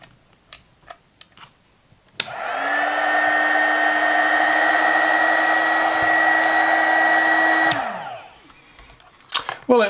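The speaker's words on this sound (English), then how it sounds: "measure the temperature of the hot air coming out of the heat gun" A TACKLIFE mini heat gun, model HGP35AC, switches on and blows hot air in a steady loud whooshing whir for about six seconds, then winds down, with a few faint ticks and clicks before and after.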